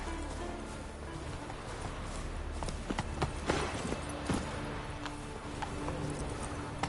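Roach the horse gallops in The Witcher 3: rhythmic hoof clip-clops pound steadily over a low ambient bed, fairly faint, with a few sharper thuds and no talking.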